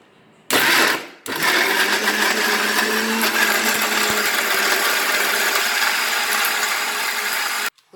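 A countertop blender blitzes paneer peas masala ingredients, a loud steady whirring grind that starts with a short burst, pauses briefly, then runs continuously for several seconds before cutting off, with no talking.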